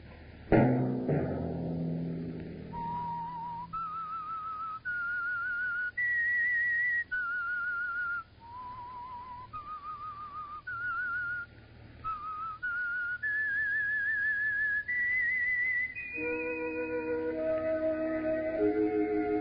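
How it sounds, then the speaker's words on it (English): A melodic whistled theme opens the old radio drama, a series of clear sustained whistled notes rising and falling, ending as orchestral music swells in beneath. "Let that whistle be your signal for the Signal Oil program, The Whistler."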